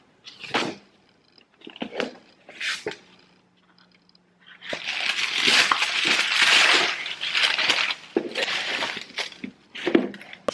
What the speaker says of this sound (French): Je viens de recevoir ce colis Typologie et je vais l'ouvrir avec vous.